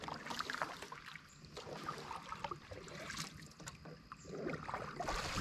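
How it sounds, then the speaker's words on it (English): A canoe paddled along a river by someone steering on one side, with soft water swishes and lapping against the hull under a steady outdoor wash of breeze, faint and continuous. "I can steer the boat and just keep paddling on one side and keep it kind of straight."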